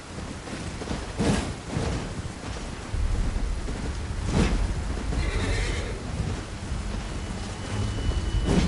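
Rain and thunder in the game Elden Ring Shadow of the Erdtree, a steady hiss of rainfall with a few deep rumbling thunder swells rising over it.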